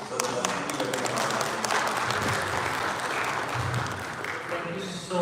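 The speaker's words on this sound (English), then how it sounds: "Another round of applause for our panelists" An audience at a live National Bonds investment panel event in Dubai applauds continuously, a dense, fairly distant wash of clapping that holds steady throughout while a speaker's voice carries over it.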